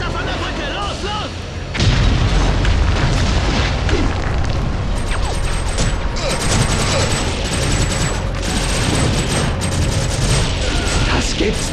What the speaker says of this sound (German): Die haben die Brücke schon wieder gesprengt!